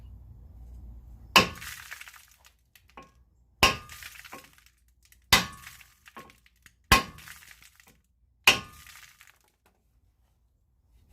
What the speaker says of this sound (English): I'm just gonna use my hammer here and try to hit between the studs